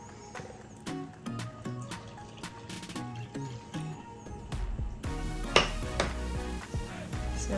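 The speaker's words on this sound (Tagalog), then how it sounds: "Halu-haluin lang po natin hanggang wala nang lumps" Flour and water for sticky plain and ube tikoy being stirred in a bowl, with scattered utensil clinks and scraping against the bowl, close and moderately loud, no talking.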